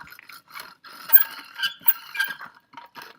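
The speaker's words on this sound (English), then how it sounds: "Using a rolling pin, I can then just roll the slab" A rolling pin rolls across a clay slab laid on fabric, giving soft intermittent scraping and rubbing strokes in short bursts, close and fairly quiet.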